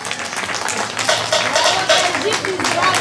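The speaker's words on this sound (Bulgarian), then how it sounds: "Има ли аплодисменти?" Wedding guests applaud at a ceremony, a steady burst of clapping running throughout with voices and a melodic line sounding over it.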